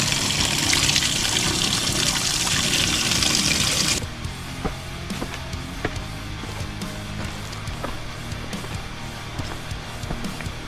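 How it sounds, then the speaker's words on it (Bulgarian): Small year-round fountain on a mountain trail near Teteven, water running steadily as a loud splashing rush for about four seconds, then a softer trickle with faint clicks and footsteps. "Първо ще минем през една чешмичка, там тече целогодишно."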